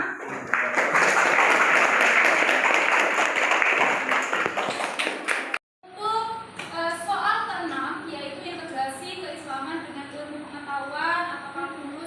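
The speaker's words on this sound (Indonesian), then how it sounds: "Beri aplaus kepada kelompok 5" Classroom applause for a student group during a calculus teaching session, a dense burst of clapping lasting about five seconds. It cuts off abruptly, and a voice then speaks over quiet room sound.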